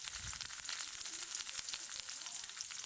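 A Kathiyawadi tempering sizzles steadily in hot oil after green chilies, garlic and curry leaves go in, a soft, even hiss with light crackles throughout and no talking.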